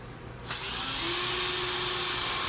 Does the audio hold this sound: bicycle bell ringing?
no